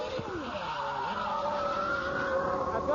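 A Jordan Formula One car brakes too late into a right-hander and spins as its back end comes around. A close, shrill tire screech sweeps and wavers over a steady engine whine for a few seconds.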